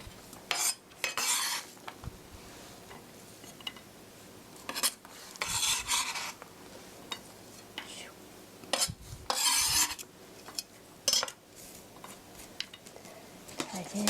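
A knife blade scrapes chopped food onto a plate while a spicy tuna rice bowl is being prepared, giving repeated short metallic scrapes and clinks with quiet pauses between them.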